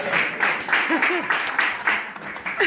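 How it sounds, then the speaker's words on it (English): Audience members at an improv graduation show clap in rhythmic bursts, with a voice or two calling out over the applause. "Give her applause."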